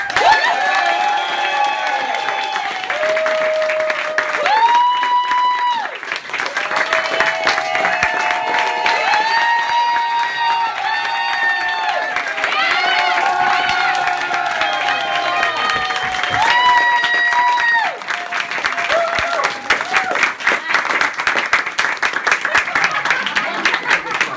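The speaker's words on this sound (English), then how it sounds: "If you could please join me in a round of applause for our awesome puppeteers." Sustained audience applause and cheering for puppeteers after a puppet show, a dense, steady wash of clapping lasting the whole stretch, with children's shouts and whistles over it.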